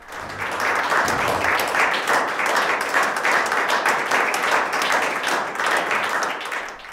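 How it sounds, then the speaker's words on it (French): Municipal councillors in Lemberg applaud together in a council chamber, a steady, full round of clapping that swells quickly and holds for several seconds before easing off. "Patrick Klein, décédé le 5 novembre dernier, a été applaudi par l'ensemble des conseillers"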